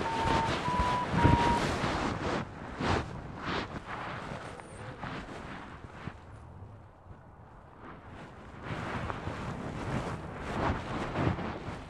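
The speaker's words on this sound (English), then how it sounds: "A bit of wind now." Wind gusts buffet the microphone outdoors while a paraglider, an Advance XI, is being ground handled; a loud, steady rush of wind fills most of the stretch, easing briefly near the middle before picking up again.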